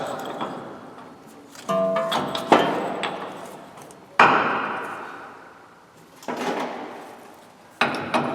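A new ball joint is driven into a Dodge Dakota/Durango control arm with a press setup: a few hard metallic strikes, each ringing and fading over a couple of seconds, with scattered clanks between.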